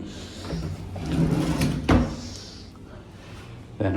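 A hotel room drawer in a remodeled Las Vegas suite slides open with a short scrape and a soft bump, close and moderately loud, with a brief clack near the end and room noise around it.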